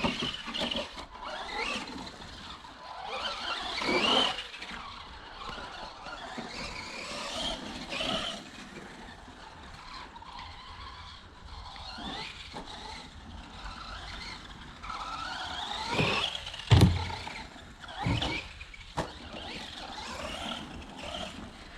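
A Funtek STX RC car drives on new, grippier tyres, its electric motor whining as it runs near and far, with occasional tyre squeals and bumps.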